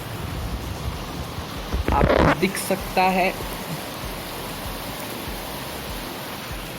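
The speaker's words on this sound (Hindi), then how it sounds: "बारिश हो रही" Steady monsoon rain falls on a morning in Bhopal, a constant hiss running through the whole stretch, with a voice speaking briefly over it partway through.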